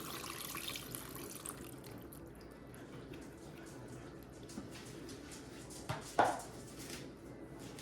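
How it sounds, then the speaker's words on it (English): Water pours and splashes steadily into a pot that held chicken, for homemade dog food, at low volume, with a brief clink near the end. "I'm going to put the water where the chicken"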